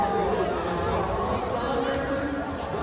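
A dense crowd murmurs and chatters at the Kansas City Chiefs Super Bowl parade, a continuous close wall of overlapping voices with no distinct words standing out.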